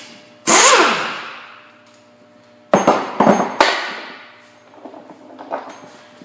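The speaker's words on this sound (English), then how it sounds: "you can tap the side of this pretty good and with a hammer" Loud metallic hammer strikes on a Ford F-150 steering knuckle ring out: one sharp hit, then a quick cluster of three or four blows, followed by quieter clanks and scraping.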